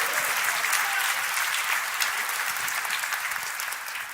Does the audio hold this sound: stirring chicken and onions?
no